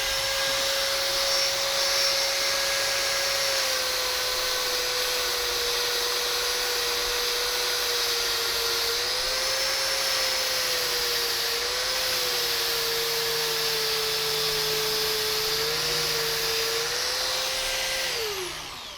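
A WEN 1/2 x 18 inch belt sander runs steadily and loudly on its own, a continuous motor whine with a sustained high tone that holds nearly level before dropping off as it winds down at the end.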